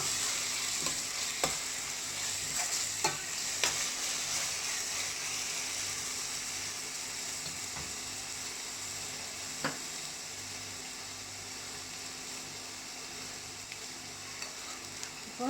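Onion sautéing with ginger-garlic paste in a pan for a fish curry: a steady soft sizzle of frying with occasional clicks of stirring, close and fairly quiet, no talking.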